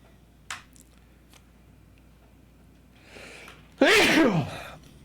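A single sharp human sneeze bursts out loudly near the end, preceded by a quick intake of breath and a small click, otherwise quiet room.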